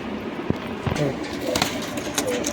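Allahabadi pigeons give short, soft coos over a noisy, bustling background, the calls brief and partly masked.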